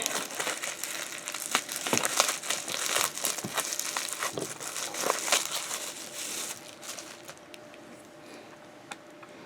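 Fountain pen mail package being unwrapped, close crinkling and crumpling of paper and plastic wrapping with sharp rustles and tears that fade to quieter handling near the end.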